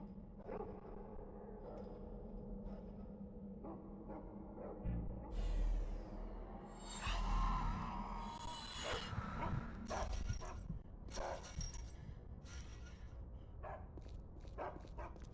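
Dogs bark in a haunted-house video game, a string of sharp yaps and whimpers scattered over a steady low background hum, with a few louder bursts in the middle and no speech.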